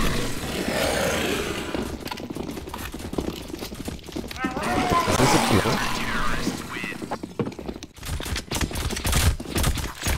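Counter-Strike Global Offensive zombie escape gunfire: dense rapid automatic shots in long sustained bursts, loud and near, with players talking and shouting over the shooting.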